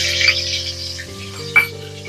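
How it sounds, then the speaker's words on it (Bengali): Green chili paste hitting hot white oil in a pan for a Bengali chital fish stem fry, a hissing sizzle with a low humming background and one sharp utensil clink near the end. "তেলটা গরম হয়ে যাওয়ার পর এর মধ্যে আমি দিয়ে দেব কাঁচা লঙ্কা বাটা"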